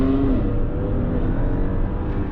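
Audi A7 55 TFSI quattro with a 48V mild hybrid system accelerating, a steady close engine drone heard from inside the cabin, with no talk over it.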